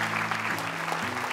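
Audience applause at an Islamic Quran recitation event, a dense steady patter of clapping that runs the whole moment, with a low sustained tone underneath.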